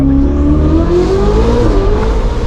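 A Ferrari 488 Spider's turbocharged engine revs up, its note rising steadily in pitch, loud and close, with no talking.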